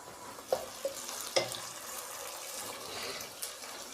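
Tomatoes sizzle softly in a hot pan for kadhi pakora, with a steady frying hiss and a few sharp clinks and scrapes as a spoon stirs them. The sound is fairly quiet and no one speaks.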